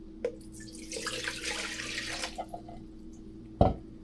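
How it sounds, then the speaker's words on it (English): Water poured into a bowl of bread ingredients (flour, yeast, salt, milk powder and oil), a soft splashing stream for about a second and a half with a few drips and a sharp knock near the end. "So I'm going to go ahead and pour my water in."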